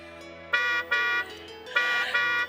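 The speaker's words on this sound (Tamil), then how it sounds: "உங்க வீட்டுக்காரர் தான் ஹார்ன் அடிக்கிறாரு." Four short car horn honks in a row, each held for about a quarter second, loud and close with brief gaps between.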